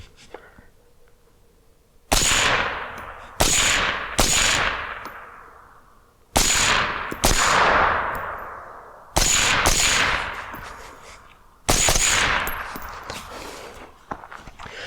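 Six loud suppressed gunshots from a 16-inch 5.56 rifle fitted with a Dead Air Sandman suppressor, fired at uneven intervals. Each shot is a sharp crack followed by a ringing, fading tail, with quiet gaps between them.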